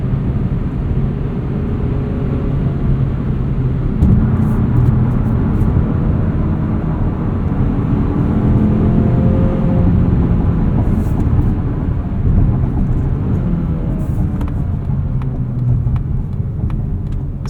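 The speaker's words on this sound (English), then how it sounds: "Alright, so now we're in sport mode, giving us a little bit more aggressive downshifts." A Mazda CX-30 2.5S in sport mode pulls hard from inside the cabin, its engine drone rising and falling through aggressive downshifts with a loud, continuous rumble and road noise.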